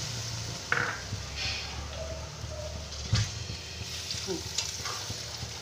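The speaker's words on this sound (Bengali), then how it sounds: "এবার আমি পরিমাণ মতন জল দিয়ে দিচ্ছি" Water poured onto well-fried spice paste in a pan for a thin fish curry with potato, pointed gourd and ridge gourd, a steady sizzle with a couple of sharp clinks of utensils, no speech.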